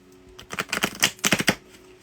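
Tarot cards being shuffled in a burst of quick, crisp riffling flutters, two close clusters of rapid card slaps with a short pause between, alone with no talk.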